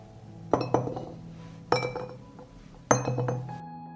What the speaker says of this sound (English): I add a clove of garlic to each jar.